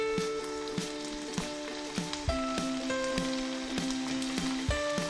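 Brown chickpea sundal with grated coconut is mixed in a hot pan: a continuous crackling sizzle broken by quick spoon scrapes at a brisk, regular pace, close up, with a faint tonal hum underneath.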